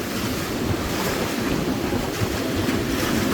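Strong wind blows steadily over a boat at anchor, a dense roar with wind buffeting the microphone and a wash of water, continuous and loud with no voices.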